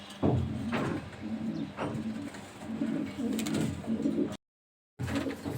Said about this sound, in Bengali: রেসার হোমা কবুতর